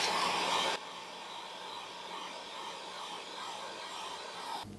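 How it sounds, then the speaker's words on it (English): A heat gun blowing hot air to dry paint on arcade back glass gives a loud, steady whooshing roar close by. It cuts down abruptly after the first second, then continues as a softer, constant blowing hiss. "So I'm going to get this dried off with the heat gun."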